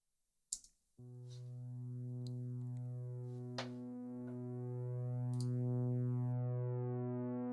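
A Moog Sirin pad texture through an automated EQ filter sweep, a sustained low chord-like drone that swells brighter and louder over several seconds, with a few faint clicks on top and no talking.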